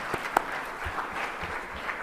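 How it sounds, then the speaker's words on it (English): A conference audience applauds a plenary panel, a steady wash of clapping from many hands with a few sharper nearby claps standing out. "Let's give our panel a round of applause"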